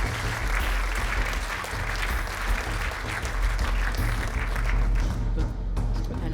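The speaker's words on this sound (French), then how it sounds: "On les applaudit très fort tous les 4." Loud, sustained audience applause for four award winners at a regional awards ceremony, dense clapping continuing evenly throughout without talk.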